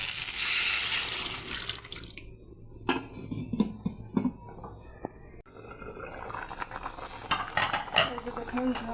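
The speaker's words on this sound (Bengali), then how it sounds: "গরম জল দিয়ে দেব।" Hot water is poured into a pot of potatoes fried with spices, a bright splashing rush at the start, then a metal spoon clinks and scrapes as the mixture is stirred, close and fairly loud.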